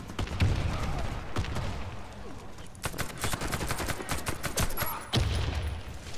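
Gunfire in the shooter Warface, dense bursts of shots with short pauses between volleys, loud and close throughout.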